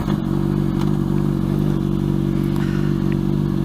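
Honda CBR 600RR sport bike being ridden: a close, steady, loud engine drone with rhythmic pulsing and faint rattles, heard alone without talk.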